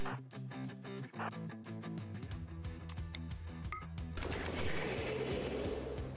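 Rapid gunfire and weapon blasts from a combat scene in the colony video game RimWorld, with a charge lance among the weapons, rattling in dense bursts over a steady game soundtrack, growing into a louder noisy wash toward the end.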